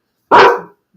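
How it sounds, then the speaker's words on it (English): A single dog bark, loud and close, one sharp burst about half a second long in otherwise quiet surroundings. "That's my dog."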